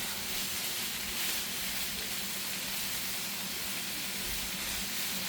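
Roast beef sizzles on a hot griddle for a Philly cheese steak, a steady, even hiss that holds without a break, with no one talking.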